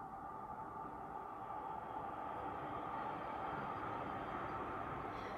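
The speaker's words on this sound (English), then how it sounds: "We'll let the train go by." A train rolls past near the coast by the Raton Canyon Bridge, a steady, faint broad rumble that holds evenly from start to finish with no voices.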